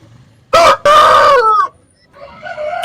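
A rooster crows loudly and close at a country market for native chickens in Anantapur, two strong bursts followed by a quieter drawn-out call from another bird.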